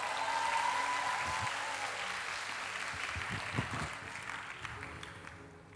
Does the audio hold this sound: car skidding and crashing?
no